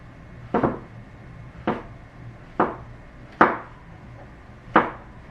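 Five separate knife strokes slice through a king oyster mushroom onto a wooden board, each a close, crisp thunk spaced about a second apart, with quiet in between and no voices.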